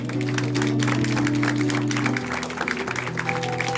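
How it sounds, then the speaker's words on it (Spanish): A church congregation applauds during a Spanish-language evening vigil service, clapping mixed with sustained musical tones and a murmur of voices. "¿Cuántos le den un aplauso al Señor?"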